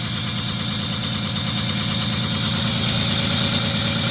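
A Ford 6.0 Powerstroke diesel pickup runs at high idle just after a cold start at -2°F on partially gelled fuel, a steady, close, rattling engine drone that grows slightly louder over a few seconds.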